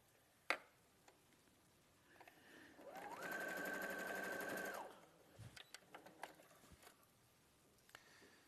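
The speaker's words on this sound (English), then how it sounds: "And then we'll sew the rectangle at the bottom and the rectangle at the top." A sewing machine stitches a fabric rectangle with a quarter-inch seam allowance. It runs as one steady, whirring burst of about two seconds, framed by quiet clicks and handling noises before and after.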